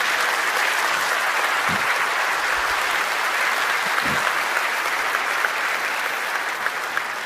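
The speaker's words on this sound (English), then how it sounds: "Let's give them a round of applause." An audience at a keynote event applauds scholarship winners. The clapping is loud and sustained, a dense wash of many hands that holds steady for about seven seconds.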